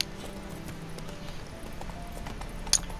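Geralt's horse Roach gallops in The Witcher 3, a steady, close clip-clop of hooves running beneath faint game ambience, with a brief sharp bright sound near the end.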